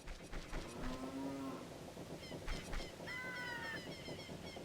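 Cows moo in Zelda: Ocarina of Time, heard as a long low moo and then a second higher drawn-out call later, over busy game background sound with no talking.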